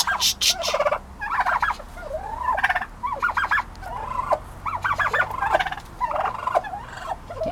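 Repeated gobbles from a 4-month-old male turkey, loud and close, coming in quick bursts one after another with short pauses between.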